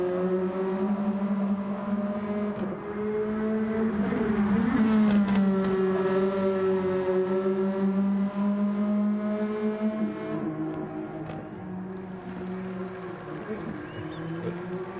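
Race car in a GT2 racing video game revving hard for burnouts, a loud close harmonic engine whine rising and falling with repeated throttle surges, with commentary voices talking over it.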